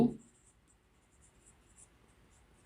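Chalk or marker writes on a board during a sixth-grade math lesson. Faint, light scratchy strokes sound in short patches after a brief thump at the start, with no talking over them.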